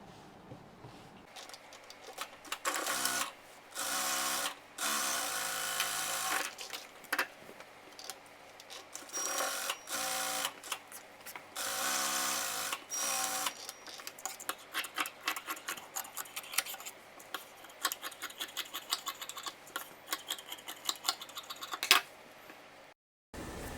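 A home sewing machine stitches a small baby dress, its needle running in long steady bursts with brief pauses between seams, loud and close with a rapid mechanical tick-like rhythm.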